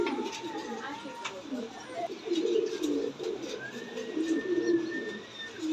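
Pigeons cooing close by, low soft coos repeating in irregular bursts over steady background noise from a pigeon seller's stock of running pairs.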